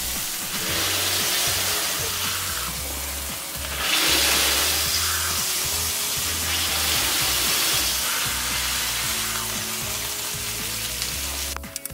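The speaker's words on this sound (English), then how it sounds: "Now we're going to give our burgers a second press." Smash burgers sizzle loudly on a griddle as they are pressed a second time, a steady crackling fry with a surge of hiss partway through, no voices over it.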